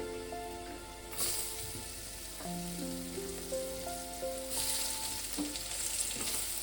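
Capsicum and red bell pepper sizzling and being stirred in a hot frying pan with oil, a dense continuous crackle and hiss up close, while a tonal melody plays over it throughout.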